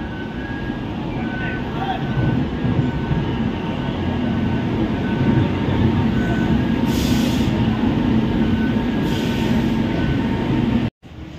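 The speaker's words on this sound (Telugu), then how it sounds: "ఇంకా అటుపక్క ట్రైన్ వస్తా ఉంది చూడండి" A train rolls past an underpass construction site in Anantapur with a loud, continuous rumble and clatter of wheels on track, steady and near for about eleven seconds before cutting off, with faint voices in the background.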